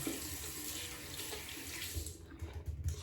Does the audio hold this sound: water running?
yes